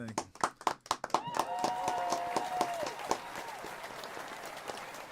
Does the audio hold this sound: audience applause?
yes